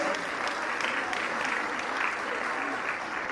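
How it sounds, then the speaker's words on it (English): Audience at a school annual prize distribution ceremony applauding children, a steady, dense wash of many hands clapping at moderate distance that holds evenly throughout without pause. "a huge round of applause for these kids."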